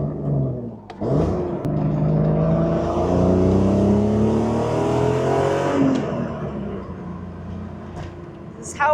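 A BMW E36 engine misfiring on cylinders 5 and 6 runs with a loud, rough, uneven rumble that surges and dips for about nine seconds, with a person talking over it.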